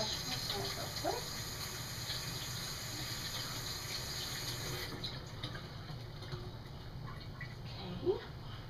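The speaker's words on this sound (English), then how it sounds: "Excuse me guys, let me wash my hands real quick" Tap water running steadily into a sink during hand washing in a home kitchen, a soft continuous hiss at low level that thins out partway through, with a brief clatter near the end.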